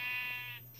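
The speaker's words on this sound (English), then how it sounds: "There's a sheep right here" A sheep bleats in Minecraft, a single short buzzy tonal bleat lasting under a second, loud and close over a steady low hum.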